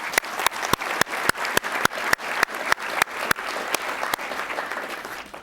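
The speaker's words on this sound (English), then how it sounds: "Give Brent a round of applause" A law society conference audience at Georgetown University gives a hearty round of applause, a loud, continuous crowd clapping with sharp nearby claps standing out in an uneven rhythm above the wash, lasting the whole stretch.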